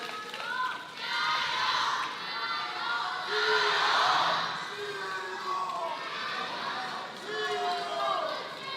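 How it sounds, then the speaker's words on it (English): A crowd at a table tennis match, the Men's World Cup between Ma Long and Simon Gauzy, cheers loudly and steadily, with shouts and whoops rising and falling and a commentator talking over it. "I thought people were cheering for Timo"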